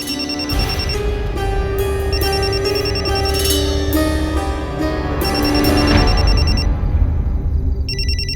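A mobile phone ringtone plays loudly and continuously from inside a bag, a bright repeating electronic melody that stops abruptly near the end, with no one speaking.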